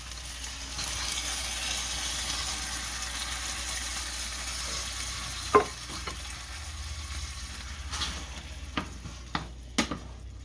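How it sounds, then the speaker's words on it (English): A 28-ounce can of petite diced tomatoes tipped into a hot pan, with a gentle sizzle and wet stirring, followed by a few sharp clinks and taps of a utensil against the pan near the end. "now I'm just going to add in a 28 ounce can of diced tomatoes"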